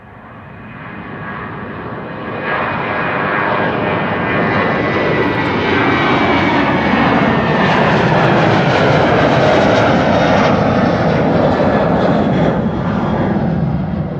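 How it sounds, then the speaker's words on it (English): A KLM passenger jet bound for Athens departs Amsterdam Schiphol on a sunny day, its engines building to a loud, sustained roar that rises in the first few seconds and holds steady throughout, with no talk over it. "KLM Flight 1955 to Athens, on the move now."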